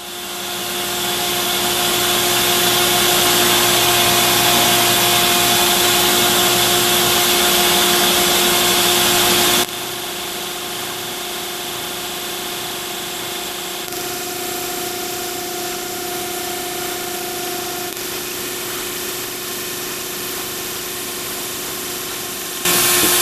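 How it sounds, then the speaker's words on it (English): A milling machine counterbores holes about a quarter inch deep in an aluminum mini pallet, giving a loud, steady whine and hum that drops sharply to a lower, quieter drone partway through, with no talk. "So I'm going to go through and counterbore all these holes on the back,"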